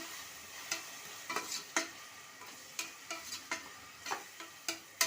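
Ginger garlic paste frying in a pan for a cooker mushroom biryani, with a soft steady sizzle broken by sharp, irregular scrapes and clicks of a spoon stirring against the pan.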